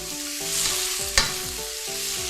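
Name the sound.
stir-frying cabbage in pan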